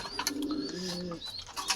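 Pigeon cooing close by in a village pigeon house, a few soft throaty coos with faint chirps around them.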